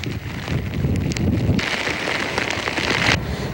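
Heavy rain pours down steadily in Baler, Aurora, while strong wind gusts roar and buffet the microphone, loud and continuous with no voices.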